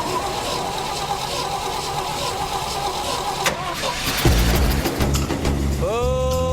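An old gasoline truck engine cranks and catches after sitting unused, with churning starter noise giving way to a rough, loud, uneven idle, close by.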